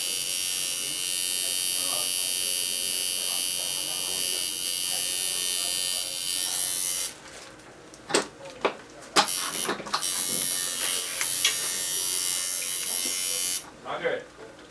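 A tattoo machine with a 7 magnum needle grouping buzzes steadily during tattoo training, cutting off halfway with a few clicks before starting again, while people talk nearby.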